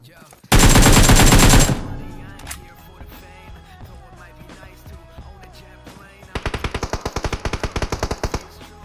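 Loud M16 rifle fire in the game PUBG Mobile, with a sustained automatic burst at the start, quieter game noise in between, then a rapid run of evenly spaced shots near the end.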